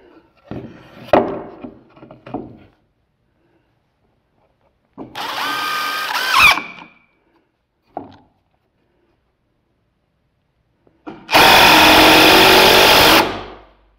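A power drill drives screws into a wooden board during shop construction: two separate whining bursts of one to two seconds each, close and loud, with quieter handling knocks and clatter in the gaps.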